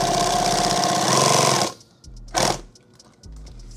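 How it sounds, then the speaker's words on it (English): A sewing machine stitches a bag in a loud, rapid burst for under two seconds, then stops, followed by a short second buzz of stitching and faint mechanical clicks and thumps. "Let's go ahead and sew that back"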